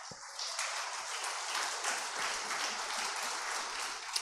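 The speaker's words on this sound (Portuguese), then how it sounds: "Aplauda Jesus" Congregation applauding during a church service, a steady dense wash of clapping that holds at an even level for about four seconds, with no talking over it.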